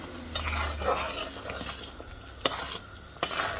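A spoon stirs salt through raw mango pickle in a bowl, a soft continuous scraping with a couple of sharp clinks against the container, close and fairly quiet.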